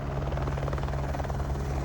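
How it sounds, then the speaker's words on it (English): A helicopter coming down to hover near a campsite one site over, its rotor chop and engine roar steady, loud and close throughout the short stretch. "it gets louder and louder, and we look over, and there was a helicopter basically landing one"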